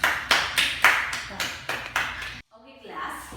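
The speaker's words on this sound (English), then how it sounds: "So let's give them a round of applause." A classroom of students claps for the winning group, a handful of sharp, loud clap bursts in quick succession over about two seconds, then a short silence followed by soft indistinct background sound.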